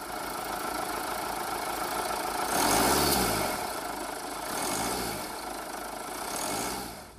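Jeep Cherokee with a 2.2-liter multi-jet diesel engine running, a steady low hum with a few gentle swells in revs, heard alone without voices.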